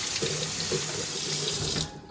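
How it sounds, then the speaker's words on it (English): Quinoa rinsed under a running kitchen tap, a steady close hiss of water with faint splashes from the grains, stopping near the end. "So I'm going to wash this under running water."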